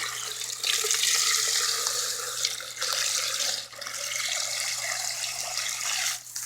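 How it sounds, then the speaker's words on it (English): Steady rush of water running from a tap into a container in a brooder for broiler chickens and turkeys, a continuous broadband hiss with slight shifts in level throughout. "Top that off with water."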